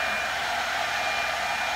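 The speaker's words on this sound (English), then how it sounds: "that I have to use a blow dryer, unfortunately" A blow dryer runs close and steady over wet resin poured on a wooden panel, giving a continuous loud whooshing whir with no talking.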